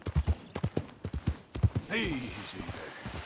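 Horse hooves clip-clop in a steady walking rhythm in the video game Red Dead Redemption. A horse snorts partway through. A voice talks over the hoofbeats.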